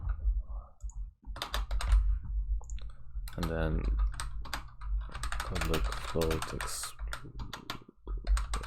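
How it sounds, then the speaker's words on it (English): Rapid clicking of a computer keyboard while someone codes a Unity script, bursts of keystrokes close and crisp, mixed in with someone speaking. "I don't know what's wrong with my typing today."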